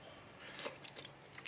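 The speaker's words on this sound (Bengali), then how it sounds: "তো আমরা মাটনটাও খাবো।" Mutton biryani being eaten up close, quiet bites and soft, slightly crunchy chewing for a moment, with no speech.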